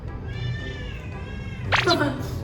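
A cat meows at close range near a dining table set with pickled crab and lobster, two short meow bursts near the end over steady background talk.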